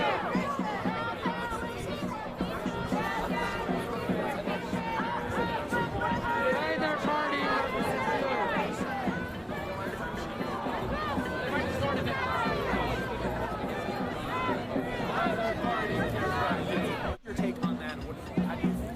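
A dense crowd of protesters in Times Square, New York, chattering and calling out in a continuous loud babble of many voices close around, with occasional shouts rising above the hubbub.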